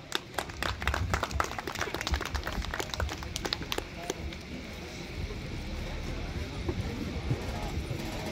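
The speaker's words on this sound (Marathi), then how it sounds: "आपल्या सगळ्यांच्या जोरदार टाळ्या होऊन जाऊ दे त्यासाठी" An audience at a Marathi groundbreaking ceremony and birthday celebration claps strongly at first, then the clapping thins into a softer, steady patter.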